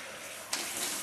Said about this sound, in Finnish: Voit laittaa koko pään välillä sinne hana alle, niin että huuhtoutuu hiukset ja kaikki